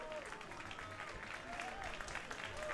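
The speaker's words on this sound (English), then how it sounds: "a hefty applause from a lovely crowd here at Povich Field" A lovely crowd at Povich Field applauds during a Team Israel baseball exhibition game, steady distant clapping at low volume across the clip with a voice talking over it.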